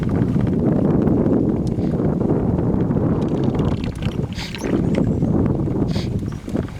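Steady wind buffets a small fishing boat on Tichigan Lake along the Fox River in Wisconsin during fall, a continuous loud rumbling roar of gusts across the microphone with no speech.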